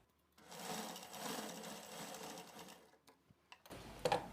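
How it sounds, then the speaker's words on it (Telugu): A sewing machine stitches along the folded neckline of a blouse, a quiet steady mechanical whir for about three seconds, followed by a few soft clicks and taps. "దీన్ని ఇలా మొత్తం ఇలా ఫోల్డింగ్ ఇలా చేసి ఒక కుట్టు కుట్టేయండి"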